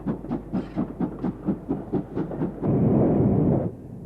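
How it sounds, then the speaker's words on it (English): Castle class steam locomotive at Snow Hill on a snowy day, a series of rhythmic chuffing exhaust beats followed by a longer roaring blast of steam, fairly close and loud. "Also at Snow Hill on a snowy day was this Castle class locomotive."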